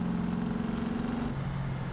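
A BeamNG.drive pickup truck with a worn-out old 350 V8 and straight pipes idles with a rough, throbbing low burble that drops slightly in pitch partway through, close and steady with no talking.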